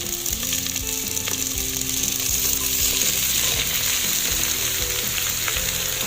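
Vegetables tipped into a hot frying pan give a loud, continuous sizzle with clattering and stirring of a spatula against the metal, close up and without any talking.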